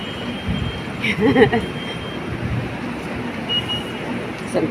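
A light rail train rumbles past nearby with a metallic wheel squeal and steady rolling noise, while a few people talk briefly over the track sound.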